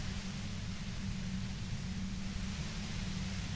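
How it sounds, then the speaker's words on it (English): Steady white noise effect from the video game Disco Elysium, a dense, even hiss with a low rumbling hum underneath, holding constant and fairly quiet throughout with no voices. "You hear through the white noise."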